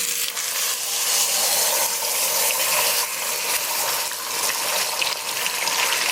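A roast of meat sears in hot olive oil in a cast iron pot, giving a loud, steady sizzling hiss that holds throughout, close up.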